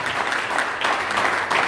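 A crowd of wedding guests at a reception claps steadily and loudly, a dense, continuous wash of applause filling the room.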